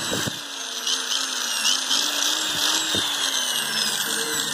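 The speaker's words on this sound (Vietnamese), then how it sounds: "Con số 3 con khoan cóc của Hitachi các bác nhá" An old Japanese Hitachi hammer drill, a 100 V model without reverse, runs steadily with a continuous high whine and motor hum, a few faint knocks and handling noises over it, and no talk.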